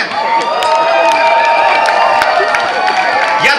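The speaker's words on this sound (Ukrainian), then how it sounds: "дуже радий тим оплескам" Large crowd at an outdoor political rally in Cherkasy, Ukraine, applauding and cheering loudly and continuously, with scattered shouts over a dense wash of clapping.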